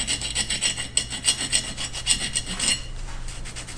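Coin scraping across an old, discolored copper water service line, a close, steady rhythmic rasping of repeated short strokes that stops near the end, with no talking.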